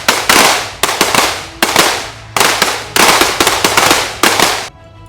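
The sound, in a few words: sniper rifle shots at army shooting practice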